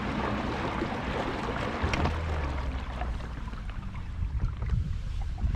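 A 24-volt electric dinghy motor with 86 lbs of thrust runs in first gear on open water, a low steady drone under wind buffeting and sloshing water, with a few knocks from the boat.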